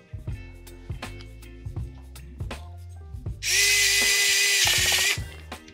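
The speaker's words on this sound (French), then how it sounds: "le tournevis électrique de chez Mostarl, c'est un gain de temps, mais phénoménal" A Mostarl electric screwdriver whirs in a steady burst of about two seconds, preceded by several sharp clicks and knocks.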